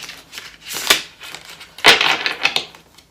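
A Starseed Oracle card deck being shuffled close by, with riffling, crinkly bursts of cards rubbing and slapping together in two main surges and softer rustles between.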